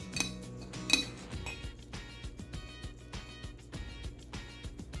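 A spoon scrapes coconut oil from the bottom of a jar, with a sharp metallic clink near the start, then quieter scrapes and small taps.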